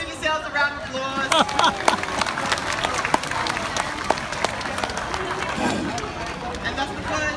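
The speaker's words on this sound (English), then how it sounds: "give yourselves a round of applause" An audience at an aquarium seal show applauds steadily, a dense wash of clapping from a crowd with murmured voices mixed in throughout.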